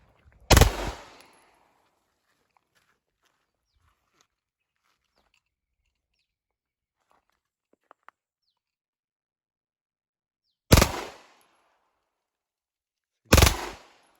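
Glock 17 pistol test-fired, three sharp loud gunshots: one near the start, then a long quiet gap, and two more close together near the end, each ringing out briefly.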